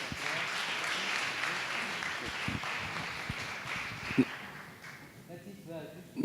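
An audience applauds steadily, the clapping fading out toward the end as a voice begins to speak.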